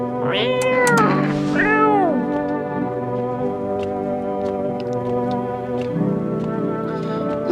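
A cat meows in the video game No, I'm not a Human: two or three close, rising-and-falling meows early on, then a steady tonal hum carries on with no talking.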